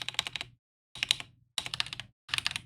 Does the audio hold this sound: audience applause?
no